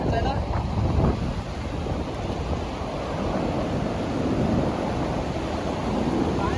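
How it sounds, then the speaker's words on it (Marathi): Dense, steady hiss of heavy rain during traditional rapan net fishing, mixed with wind rumble, continuous and loud for the whole stretch. "भरपूर जोरदार पाऊस आला आहे"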